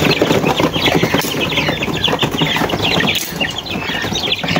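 Many chickens cluck and squawk at once in a small poultry farm at feeding time, a dense, continuous, close-up chorus with occasional wing flaps and no talking.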